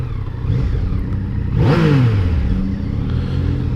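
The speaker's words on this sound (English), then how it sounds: "even the stock exhaust has a little popping and backfiring." A Yamaha MT-09/FZ-09 motorcycle on its stock exhaust revs up sharply, rising in pitch and then settling back to a rumbling idle, fairly close and loud throughout.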